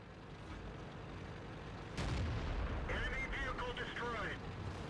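Tank cannon fire in the video game World of Tanks: a sudden heavy boom about two seconds in, followed by a sustained rumbling roar, with a voice briefly audible over it.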